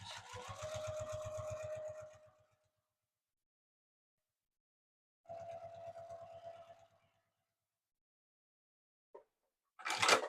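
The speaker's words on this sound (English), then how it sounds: "I am going to stitch those together, right sides facing, 3/8 of an inch seam allowance, and I can stitch all the way down this edge" A sewing machine runs a seam through faux vinyl ribbon panels for a car document case, in two close bursts of rapid rhythmic stitching separated by a quiet pause, followed by a brief click and a short clatter at the end.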